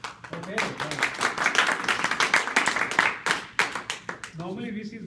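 A few people clap scattered, uneven claps at a rapid prototyping workshop summary, sharp hand strikes mixed in with ongoing talk from a nearby speaker.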